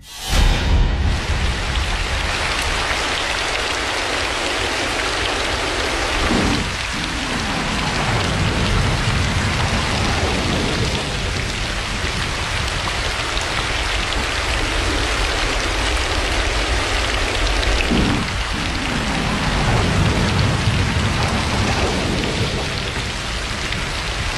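Heavy rain pours steadily and loudly, with low rumbles of thunder rolling in and out beneath the downpour.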